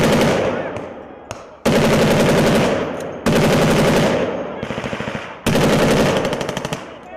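Machine guns fire in long, loud bursts during an Australian military exercise, several sustained volleys separated by short gaps, each a rapid hammering stream of shots echoing close by, with a faint voice in a pause.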